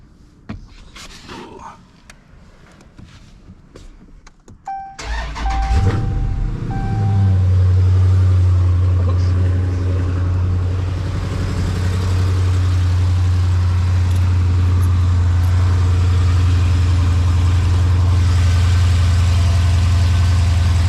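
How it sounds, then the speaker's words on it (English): A 2019 Dodge Challenger R/T Scat Pack V8 cranks and fires up after an oil change, flaring loudly, then settling into a deep, steady, rumbling idle close to the microphone. There are faint clicks and handling noises just before it starts. "you're gonna want to go ahead and start the car and make sure that there's no leaks"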